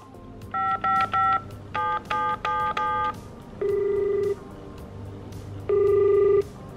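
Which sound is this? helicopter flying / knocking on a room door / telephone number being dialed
telephone number being dialed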